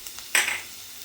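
Green chillies hit hot oil with sliced onions for semiya upma, giving one short, sharp sizzling burst that fades within half a second.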